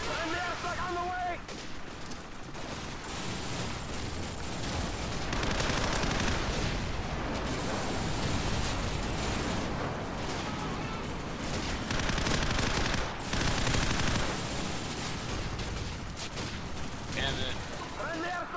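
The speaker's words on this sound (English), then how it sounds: "Friendly airstrike on the way." Call of Duty Modern Warfare multiplayer match with a friendly airstrike: rolling explosions and heavy fusillades of gunfire fill the whole stretch, loud and dense, with game announcer voice and chatter heard over the din.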